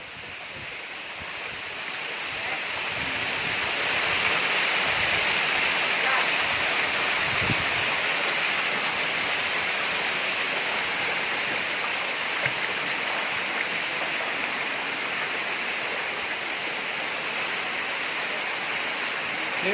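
Steady, rushing roar of falling water from a waterfall, loud and continuous throughout, a broadband wash with a few faint voices nearby.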